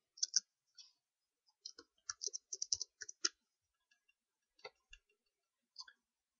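Sparse, quiet mouse clicks at a desk while working in software, single and double clicks scattered irregularly with silence between and no voice.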